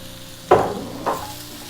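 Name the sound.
mushrooms added to frying bacon and onions in a pot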